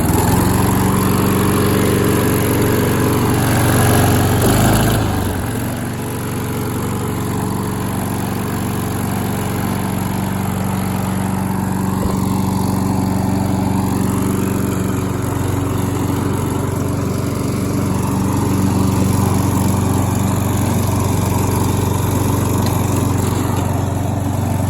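A Husqvarna HU700F/HU675AWD lawn mower engine, cold-started after more than two months unused, runs at a loud, steady drone, with a brief surge and dip early on before settling into an even, continuous hum.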